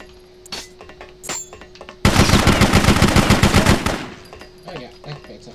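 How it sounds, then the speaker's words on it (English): Rapid automatic gunfire bursts out loudly for about two seconds in the BloodRayne action game, preceded and followed by scattered single shots, clicks and quieter game sounds. "If you stop shooting me."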